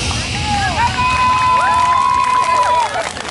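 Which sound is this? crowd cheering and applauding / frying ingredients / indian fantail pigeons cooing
crowd cheering and applauding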